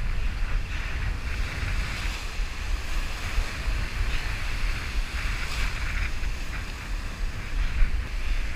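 Ocean waves and wind around a fishing boat while striped bass fishing, a loud continuous wash of surf with rumbling wind buffeting the microphone and no voices.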